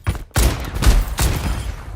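Weapon fire from the video game Overwatch 2, three or four sharp, heavy shots in quick succession with a brief pause after the first, loud and close with no talking.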